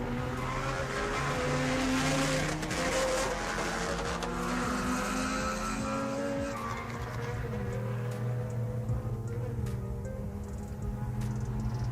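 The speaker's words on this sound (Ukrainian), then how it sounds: "Гоночна машина." A racing car's engine drones in a continuous high, tonal whine that rises and falls in pitch as if shifting through gears, fairly loud and steady throughout with no talking.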